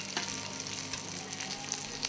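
Fish and shrimp fry in hot oil with lemon leaves, giving a continuous, close sizzle with fine crackling pops throughout.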